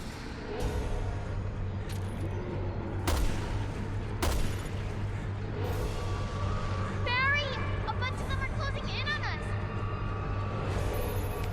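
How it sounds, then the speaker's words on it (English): In Resident Evil Revelations 2, a rifle fires at a slinger creature: several sharp, loud shots spaced a second or so apart. Game ambience, clattering effects and faint voices run underneath. "get ready to shoot this slinger"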